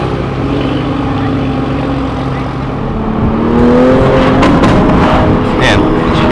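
A 2020 Toyota GR Supra engine revving loudly, a dense sustained roar that climbs in pitch and intensity, with a voice speaking over it.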